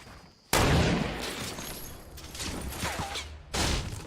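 Gunfire in the Fortnite battle royale, with a FAMAS rifle's bursts among bursts of heavy shots and blasts, loud and close, with a sharp onset and several dense volleys over a roaring background.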